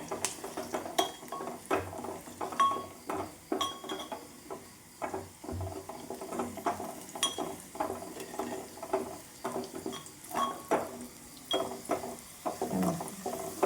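Crushed garlic is stirred in a pan, a quiet close series of irregular scrapes and metallic clinks from the spoon against the pan bottom, with soft frying underneath.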